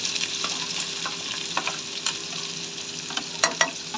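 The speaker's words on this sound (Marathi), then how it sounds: "हा कढीपत्ता आता इथेच मी मिरची आणि कांदा टाकून घेणार आहे।" Green chili and onion fry with curry leaves in a pan for a cabbage dish, giving a steady close sizzle with scattered sharp pops and light scraping as they are stirred, no talking.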